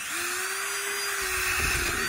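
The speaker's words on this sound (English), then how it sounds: "now we drill our holes. We use a drill." Power drill boring planting holes in garden soil for tomato plants, a steady whining motor tone held for over a second before the pitch drops and a rougher grinding takes over as the bit bites.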